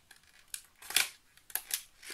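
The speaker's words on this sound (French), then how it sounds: "j'ai appuyé à peine et je traverse le plastique d'emballage" A small craft blade cuts through plastic packaging in a few sharp, crisp snips spread unevenly over two seconds, close and fairly quiet, with no talk.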